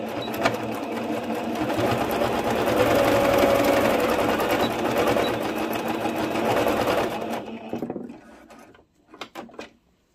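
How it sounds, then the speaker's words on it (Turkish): A sewing machine runs steadily and loudly for about eight seconds, stitching elastic onto a pleated skirt, then stops, followed by a few small clicks and knocks. "Önce lastiğimizi üst üste yerleştirip bir makine ayağıyla dikiyorum"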